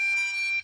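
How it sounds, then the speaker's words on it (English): A toy quadcopter drone gives a single steady, high electronic beep as it pairs with its controller. The tone is close and clear, holds for just over half a second, then cuts off. "you get that beep, right? So they're synchronized."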